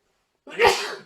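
A single sharp sneeze from a person during a podcast conversation, loud and close, preceded by silence.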